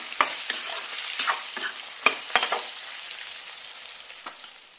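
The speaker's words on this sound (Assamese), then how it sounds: "অকমান সময় ভাজি লম এতিয়া" Boiled pork fries with salt and turmeric in a hot pan, a close, steady sizzle punctuated by several sharp scraping stirs early on, easing to a softer hiss toward the end.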